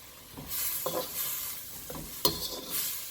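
Beef being stirred and coated in a thickened pepper steak sauce makes close, soft, wet scraping and sloshing strokes in irregular bursts over a quiet simmer. No one is talking.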